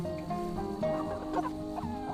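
Broiler meat chickens in a pen or coop give a dense, steady chorus of soft clucks and chirps, close and continuous.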